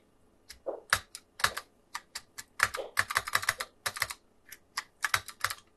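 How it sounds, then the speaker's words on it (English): Keys clack on an Apple IIc computer keyboard in quick irregular bursts, close and clear, with no voices over the typing. "Hopefully the keyboard's working."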